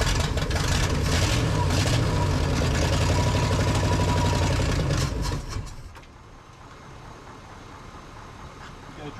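The engine of a 1965 Chevy C20 truck runs loud and rough for several seconds, then drops off sharply to a much quieter low rumble near the end.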